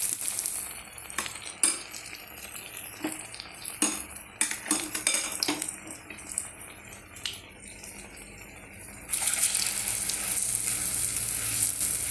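Pieces of uzhunnu vada dropped into coconut oil in an iron pan, a loud steady sizzle with sharp spoon and metal clinks, the frying swelling louder near the end, close and without speech.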